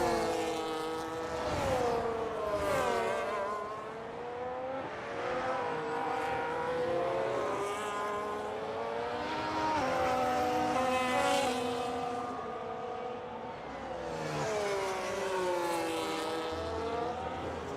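Formula 1 cars in a video game race at Monaco, their high-pitched engines whining and shifting as they pass by one after another, loud and continuous, without talk.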